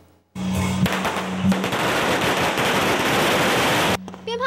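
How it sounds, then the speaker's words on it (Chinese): Firecrackers crackle in a long, dense, continuous barrage at a Taiwanese temple wedding procession for the earth god, loud and close for about three and a half seconds before stopping abruptly. "炮声响起"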